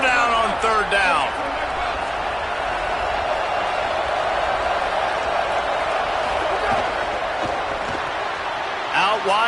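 Stadium crowd at an American football game roars steadily on a third-down defensive stand, a loud sustained wash of cheering throughout with a commentator talking over it.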